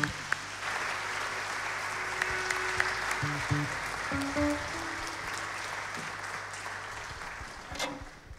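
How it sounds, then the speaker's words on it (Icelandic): An audience applauds at a country music festival held in a church, with sustained, moderately soft clapping running throughout and faint tonal sounds from the stage underneath. "Gefum henni gott klapp."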